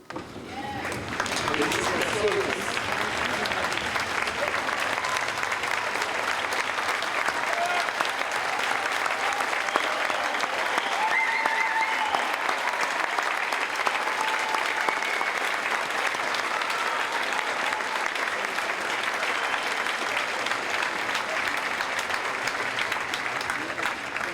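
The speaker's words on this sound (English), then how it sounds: "May I ask everyone else to stand up and applaud the heroes of today," A large audience at a university humanities commencement rises and applauds the graduates, producing a dense, sustained wall of clapping that holds at an even level for the whole stretch with no speech over it.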